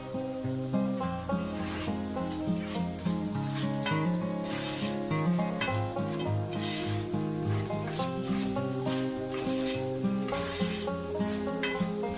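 Onions sautéing with spices in a pan for stuffed vine leaves, a steady soft sizzle heard faintly beneath louder continuous music, with no talking.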